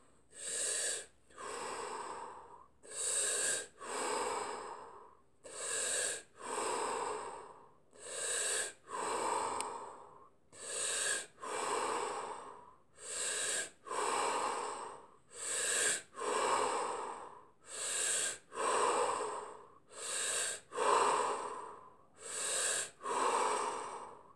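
Deep breaths in a breathing exercise: a steady series of about a dozen strong, rhythmic inhales and exhales, close to the microphone, with no talking.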